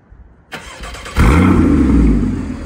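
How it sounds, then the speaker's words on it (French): A Porsche Cayman S 981 engine starts up close by: a brief crank, then the engine catches with a loud flare of revs before settling into a steady, throaty idle. "tu vas nous la démarrer, faire écouter un petit peu le bruit"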